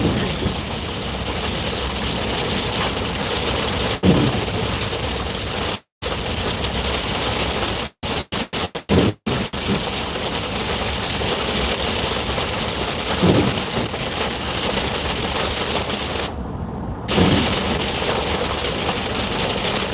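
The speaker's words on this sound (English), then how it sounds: "this rain's heavy" Heavy rain pours down steadily and loudly in a dense, continuous hiss, with a few brief dropouts in the recording.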